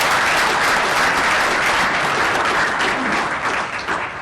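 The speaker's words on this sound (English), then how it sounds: "So a big round of applause for these movers." Loud, dense applause from an audience at a city proclamation for Indigenous Peoples Day, sustained evenly throughout and tapering slightly near the end.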